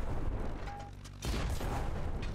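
Air mines burst against an airship in Black Skylands, a sudden loud boom cutting through a rumbling background partway through, followed by a lingering roar.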